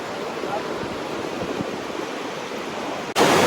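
Roar of the Iguazu waterfalls in Brazil during the dry season, a loud, continuous broadband rush of falling water heard close, ending with a sharp jump in level.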